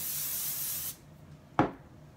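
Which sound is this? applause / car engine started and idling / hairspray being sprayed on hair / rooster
hairspray being sprayed on hair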